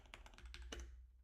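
Rapid typing on a computer keyboard, a quick close burst of about eight light key taps over roughly a second, fairly quiet and with no voice.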